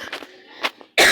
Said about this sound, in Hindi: सॉरी गाइज, अब भी खांसी है, सॉरी।